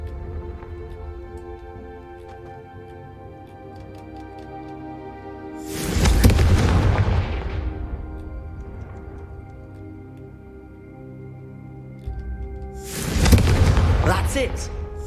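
Confringo spell explosions burst in the Hogwarts Legacy video game. There are two loud fiery blasts several seconds apart, each trailing off slowly, over quiet music and some speech.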